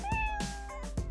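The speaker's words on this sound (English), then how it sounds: "Oh, kitty, come here." A domestic cat meows several times in quick succession, close and clear, each call a short rising-and-falling cry with brief gaps between.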